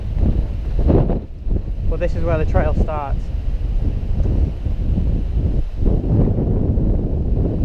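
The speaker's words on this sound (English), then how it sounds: "You still might not be able to hear me because it's going to be super windy." Gusty wind rushes over a forest mountain-bike trail, a steady loud roar that continues beneath a man's close speech for the whole stretch.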